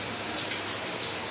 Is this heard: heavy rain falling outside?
yes